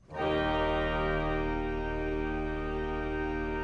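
A single sustained chord on a 1930 Skinner pipe organ's 16-foot stop in a church, with a deep, buzzing low foundation underneath, steady and loud for several seconds, no talking.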